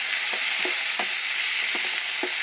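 Chicken being stirred and sautéed in oil for a Bengali chicken and fig curry, a steady bright sizzle with a handful of soft spoon scrapes spaced through it, close and continuous, with no voices.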